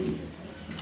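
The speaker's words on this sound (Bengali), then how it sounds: "এটা একটা নর কবুতর" A male Afsan Grizzle pigeon gives a short low coo, close and fairly soft, heard alone.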